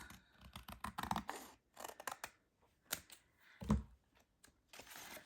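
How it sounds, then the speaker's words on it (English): Scissors cutting away excess paper for a handmade recipe album, a series of close, crisp snips and rustles in uneven bursts with short pauses, no talk. "I'm just gonna carefully cut away the excess."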